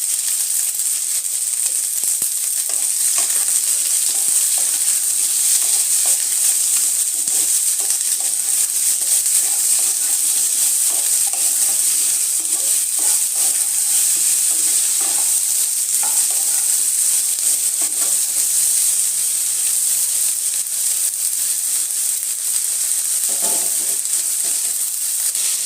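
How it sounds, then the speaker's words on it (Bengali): Potatoes and ridge gourd frying in a pan with turmeric, a steady bright sizzle running unbroken and fairly loud, close up, with occasional soft stirring scrapes and no talk. "আবার আমি আলু ঝিঙ্গাটাকে একটু ভালোভাবে ভেজে নেব।"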